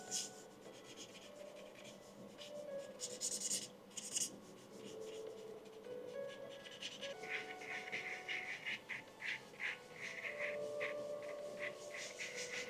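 Pencil sketching a motorcycle design on paper, a quiet steady scratching and rubbing of graphite strokes in short repeated bursts, with no talking.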